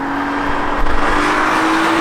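A BMW M2 with a manual gearbox and a front-mounted inline-six drives out on a road or track, giving a loud, steady engine drone with a brief surge partway through and no voices.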